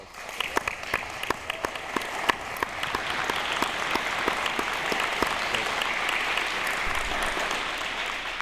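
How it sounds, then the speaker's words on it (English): Guests at an apprenticeship signing ceremony applaud, with a few sharp individual claps at first that swell into a full, sustained round of clapping from a mid-sized crowd. "please stand up one more time so we can give you a round of applause"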